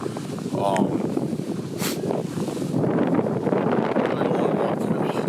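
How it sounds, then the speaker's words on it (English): Gusty wind buffets a microphone outdoors beside a picnic table, a loud continuous low rumble and roar that swells and persists throughout, with brief faint voice sounds early on. "the wind's picking up. I'm gonna try and shield you guys from this excessive wind noise."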